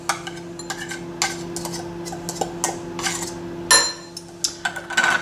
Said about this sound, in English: So simple, tuna into the bowl.